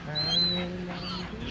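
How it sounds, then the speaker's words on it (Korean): Seagulls call at a beach, a few sharp close cries over a quiet background, with a faint human sound mixed in. "갈매기들 너무 거슬려?"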